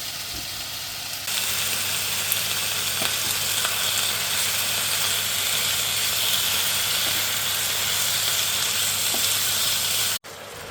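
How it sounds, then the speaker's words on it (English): Chicken browns in a pan with a steady, loud sizzle and hiss as it is stirred, continuous and close throughout with no talking, ending in a brief dropout. "So I'm going to just brown this off, keep stirring"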